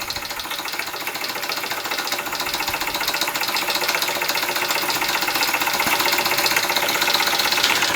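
An American Jensen 65 model steam engine chugs steadily with a dense, rapid mechanical clatter, holding a constant pace throughout at close range.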